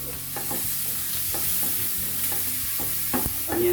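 Onion frying in a large knob of butter in a pan, a steady soft sizzle with scraping stirs and a few sharper clinks, close and continuous without talk.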